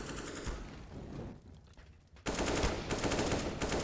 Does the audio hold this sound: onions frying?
no